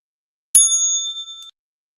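A single bright bell strike opening the trading session rings out alone, a clear metallic ding with a sustained ringing tone that decays over about a second.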